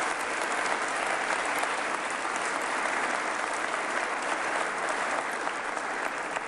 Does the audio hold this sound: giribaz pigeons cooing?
no